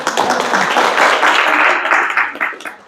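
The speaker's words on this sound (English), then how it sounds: "Let's give him a clap." A small group of people clap together for a speaker during a real estate business planning session, a dense, close, loud burst of applause that holds steady for a few seconds and then trails off.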